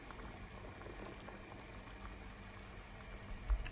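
Corn boils in a pot of water, a faint, steady bubbling rumble with one slightly louder splash at the end.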